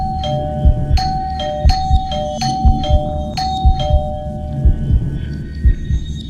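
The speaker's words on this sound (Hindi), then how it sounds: "फिर घंटी लगातार बजने लगी।" A doorbell chimes over and over in quick succession, bright two-tone ding-dongs ringing nearly back to back against a low rumbling background with soft thuds.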